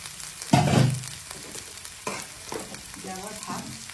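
Vegetables frying and being stirred in a pan for vegetable fried rice, a loud sizzle burst followed by softer stirring and scraping sounds with intermittent crackle, close by and with no voices.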